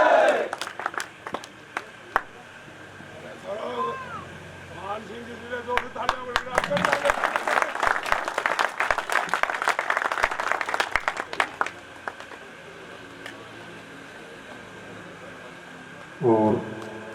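An audience applauds at an award ceremony for Delhi Police drivers, with a burst of clapping swelling for several seconds in the middle. An announcer speaks over a public address system before and after.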